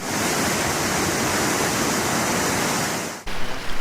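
Steady, loud rush of flowing water fills the clip without pause, a broadband roar like a river running nearby, cutting off briefly near the end.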